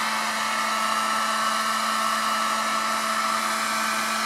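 A heat gun blows continuously while heating a pan, producing a loud, steady electric whir and rushing airflow with a constant motor hum that stays unchanged for several seconds.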